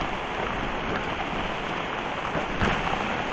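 Heavy rain pouring down outdoors over a field where eggplant is grown, a dense, loud, steady hiss of downpour filling the whole scene with no talk.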